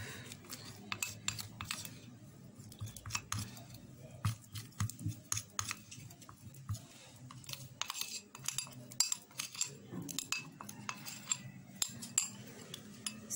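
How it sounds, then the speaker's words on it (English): A spoon mixing homemade scar remedy ingredients in a bowl, producing quiet, irregular scraping and clinking taps repeated throughout, close up and without speech. "I'm done with mixing my ingredients."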